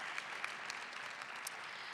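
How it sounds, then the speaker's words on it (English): Steady, distant crowd applause at a school district valedictorian ceremony, a dense, even patter of many hands clapping throughout, faint and without talk. "So he deserves a round of applause for that."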